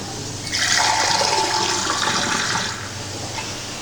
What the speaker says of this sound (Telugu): అంటే ఇది బాగా చిక్కగా ఉంది కాబట్టి లైట్గా మనం వాటర్ పోసుకుందాము.